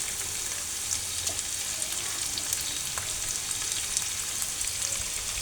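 Onion, ginger, carrot and green capsicum fry in a pan with a bright, continuous hiss and crackle, plus occasional soft stirring knocks, close and fairly loud.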